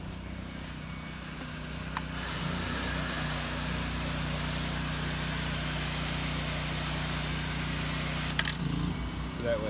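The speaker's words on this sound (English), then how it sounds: "I can spray water into it easier." Pressure washer spraying water across the vinyl siding of a three-story house at light pressure, a loud, steady hiss and motor drone running almost without a break.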